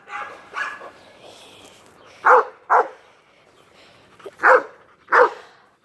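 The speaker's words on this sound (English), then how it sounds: "Like a good dog he is." A dog outdoors gives several sharp barks in two pairs, loud and close, with quieter whines and low background noise between them.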